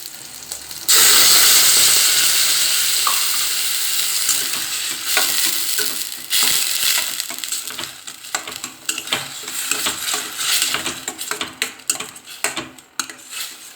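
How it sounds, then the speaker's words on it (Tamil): Thick homemade curd poured into hot oil tempering for rice-free curd rice, with a loud sizzle right after the pour, then steady stirring and scraping of a pan that fade in and out. "இப்போது தாளிச்சாச்சு தயிரை கொட்டிடலாம்"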